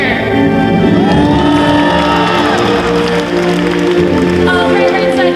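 A stadium crowd at SeaWorld Orlando's Orca Encounter show cheers loudly for the killer whale Nalani, a dense, sustained roar of shouts, whoops and applause that holds steady throughout.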